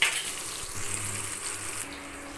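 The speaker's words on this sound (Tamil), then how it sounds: "கொஞ்சம் நேரம் நல்லா வதங்கட்டும்" Vegetables sautéing in a pan for a cabbage gravy, a steady close sizzle with soft stirring and faint utensil contact, easing slightly toward the end with no talking.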